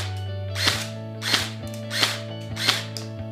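B500A1 Pro BB gun firing semi-automatic, four sharp snapping shots spaced about two-thirds of a second apart, close and loud over a steady low hum with no voices.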